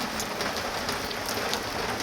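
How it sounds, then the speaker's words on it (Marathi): Steady rain falls on a surface with a dense, even hiss, close and continuous throughout, with no voices. "पाऊस काय आज बंदच नाही होत वाटत"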